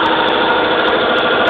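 Yardman 18hp riding tractor, a hydrostatic model, idling steadily at close range with a loud, even engine drone that holds unbroken throughout.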